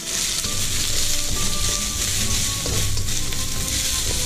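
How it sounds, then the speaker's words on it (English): Carrots and pumpkin fry in a pan for a fish curry, giving a steady, loud, close sizzle that runs without a break, with occasional stirring scrapes and no talking. "I'm going to fry them up a little bit."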